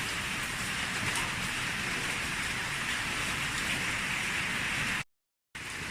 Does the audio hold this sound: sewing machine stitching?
no